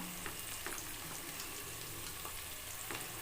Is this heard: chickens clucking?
no